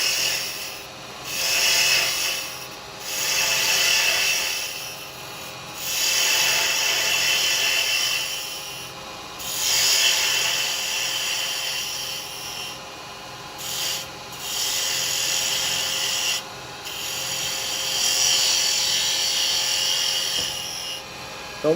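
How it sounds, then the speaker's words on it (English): Wood spindle for a snowman turning on a lathe while a round carbide chisel cuts it, giving a loud rasping, rubbing hiss in repeated passes with short breaks between strokes and a steady motor whine underneath, no speech. "I'm going to come in with the round chisel at first and take some of this away"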